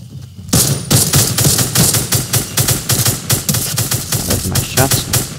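Rapid bursts of automatic gunfire from the player's weapon in a first-person video game, loud and close, firing in quick repeated volleys with brief gaps and fading slightly toward the end.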